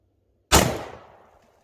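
One loud shot from a Walther PDP F Series pistol at a shooting range, a sharp crack that decays over about a second with no other sound around it.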